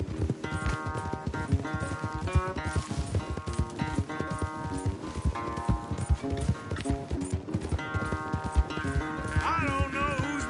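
Galloping horse hooves clip-clop steadily through a race in the video game Red Dead Redemption 2, running under game music with tonal harmonic layers throughout.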